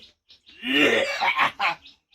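A single harsh, throaty coughing fit from an old man close up, a few rough bursts in quick succession with short breaths around them.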